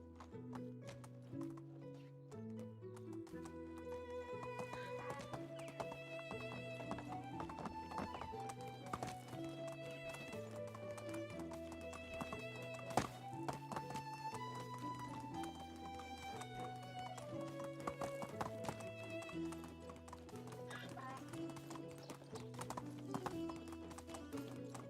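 Hooves clop steadily from a horse in Medieval Dynasty, soft and rhythmic beneath a continuous melodic music bed, with no talking over it.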